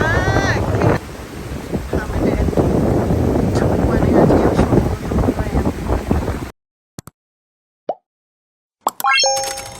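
Strong wind buffets the microphone beside a large swimming pool at a Novotel hotel in Rayong, Thailand, a loud continuous roar for about six seconds before it cuts out, followed by a few brief clicks and thumps.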